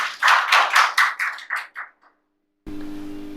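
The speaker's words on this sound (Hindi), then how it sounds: "तालियों के साथ स्वागत करेंगे।" An audience at a college youth day gathering in Barmer claps in a burst of roughly ten close, distinct claps that fade out into silence, followed by a low electrical hum.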